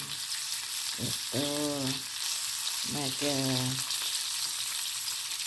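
Onions frying in a pan for breakfast, a steady bright sizzle running throughout, close and loud, with a person speaking briefly over it twice.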